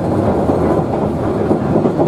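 A Savannahlander passenger train runs steadily along its rails, a continuous loud rumble and rattle of carriages over the track with no talking.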